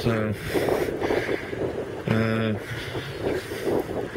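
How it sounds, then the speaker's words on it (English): Gusty wind buffeting the microphone outdoors beside a welding table, a rumbling roar that swells and fades, with someone briefly speaking over it. "here comes the wind again"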